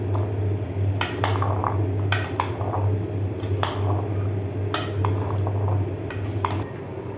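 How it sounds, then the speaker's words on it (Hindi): A spoon clinks against a bowl while chana chaat with mint and chaat masala is mixed, irregular sharp taps and scrapes over a low steady hum, close by, with no voices. "इसको मैं अच्छे से मिक्स करूँगी"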